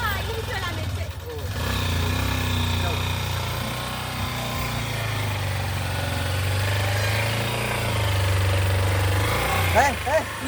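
A motorcycle engine drones steadily in a low, constant hum while riding, heard close up with wind rumble and a few clicks, as people talk over it.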